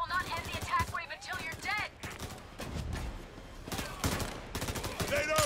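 Gunfire in the shooter game Payday 3, with bursts of shots through the clip and harmonic voice or game sounds mixed in.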